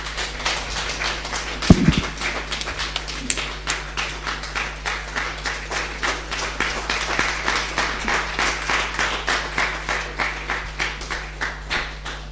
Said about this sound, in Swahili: tupigieni Alan makofi